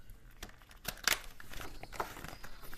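Tarot cards are shuffled softly and deliberately to keep the noise down, giving faint papery crinkles and light riffling taps close by, with no voice.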